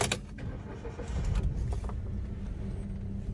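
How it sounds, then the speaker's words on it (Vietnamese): A manual Hyundai i10, built in India in 2015, is started: a short cranking burst gives way to a steady idle rumble that stays close and fairly quiet, with no talk. "Sau đây sẽ nổ máy đấy."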